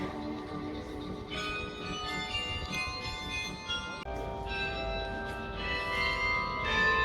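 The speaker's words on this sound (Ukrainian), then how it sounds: "Дзвони, дзвонять гарно." Church bells ring out across an old-town street in Riga, a layered peal of several bells striking in overlapping strokes with long ringing decay, fairly loud and continuous over faint outdoor background.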